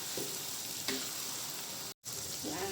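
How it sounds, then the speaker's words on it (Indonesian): Shallots, garlic and chili sautéing in oil give a steady, close sizzle, with brief scraping as they are stirred in the pan and a sudden very short gap near the end. "tumis bawang merah, bawang putih ini sampai halus. Setelah wangi, jangan lupa taruh ini cabai. Lalu kita aduk rata."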